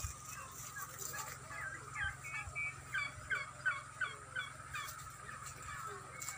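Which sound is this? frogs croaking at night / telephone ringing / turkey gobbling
turkey gobbling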